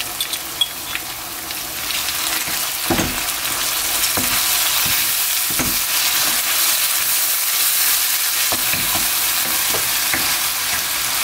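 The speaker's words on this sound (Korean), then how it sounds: "이렇게 해서 조금만 더 볶아줄게요" Spicy braised boneless chicken, seasoned with soy sauce, stir-fries in a pan with a steady loud sizzle and hiss, broken now and then by scraping knocks of the spatula.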